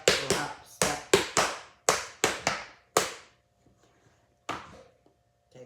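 Tap shoes beat out flap steps on the heels, a quick run of sharp, crisp clicks in flap-step pairs, then a pause and a few more isolated taps, close and clear with no talking.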